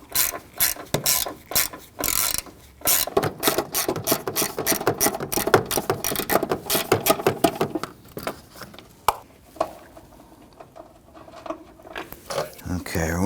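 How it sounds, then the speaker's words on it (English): A 1/4 inch ratchet on a socket extension backs out a bolt while replacing the serpentine belt on a 2010–2019 Ford Taurus 3.5L V6, making long runs of rapid, close metallic clicking that pause and resume, with some background talk. "I'm going to use my socket extension and 1/4" ratchet."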